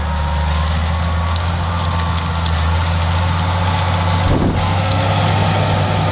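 The heavy diesel engine of a Case 2388 idles steadily and loudly nearby, a constant low rumble with a brief clunk partway through.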